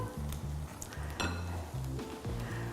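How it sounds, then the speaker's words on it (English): Steady sizzling of bread frying in oil in a pan, with low stove hum and occasional clinks of utensils against metal. "I'll just let that sizzle away for a little bit"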